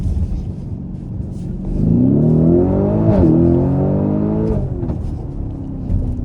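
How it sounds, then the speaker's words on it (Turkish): A Lamborghini Urus engine revs up with rising and falling pitch, rumbling loudly close by, with a few sharp crackling pops from the exhaust near the top of the revs. "Egzoz da patlatıyor"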